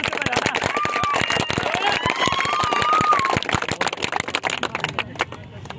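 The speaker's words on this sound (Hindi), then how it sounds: "जोर से ताली बजाइए थोड़ा बहुत" A crowd claps loudly with dense, rapid, overlapping claps at a physical qualification gathering while voices talk over them, the clapping thinning out toward the end.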